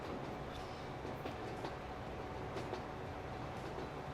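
A high-capacity passenger train, empty but built for 256 people, runs in the video game Transport Fever, giving a quiet, steady rolling rumble with faint rail clatter throughout.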